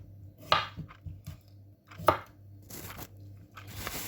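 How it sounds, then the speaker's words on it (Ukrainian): A knife chops through cucumber on a cutting board in a few distinct, sharp strikes spaced apart, with quieter board knocks in between and low hum beneath. "Тепер нарізаємо огірок."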